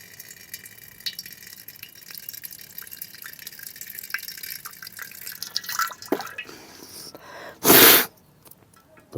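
Water gushes out of the nose during a jal neti nasal rinse, with faint trickling and breathy sounds building to one loud, short sneeze-like burst near the end.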